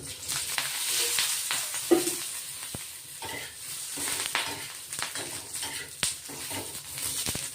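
Green chillies roast in oil in a pan for a Khandesh-style thecha, giving a steady close sizzle and frying hiss with occasional stirring scrapes and clinks of a utensil against the pan.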